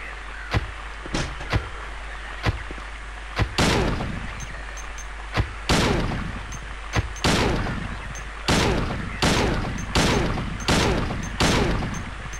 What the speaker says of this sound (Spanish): Estoy disparando a alguien.